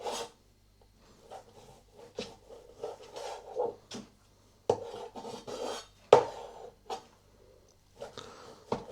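Irregular knife strikes and scraping on a cutting board while chopping onions, a series of short sharp chops with pauses between, close by.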